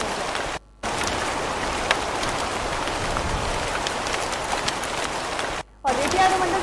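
Heavy continuous monsoon rain in the Bettiah area pours down as a dense, loud hiss of drops on surfaces, broken by two brief cut-outs.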